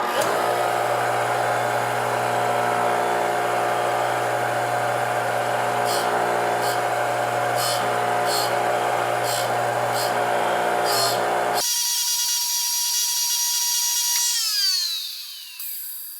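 A Lisle 91000 drill grinder motor runs with a loud, steady whine while a grinding stone sharpens a drill bit, with bursts of grinding contact partway through, then the tone changes and spins down toward the end.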